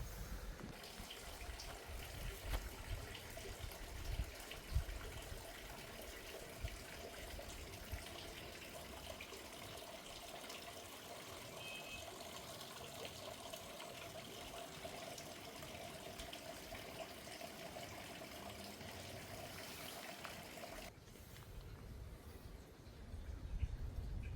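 Water runs in a steady, quiet stream, a soft continuous rush with no voices, fading slightly near the end.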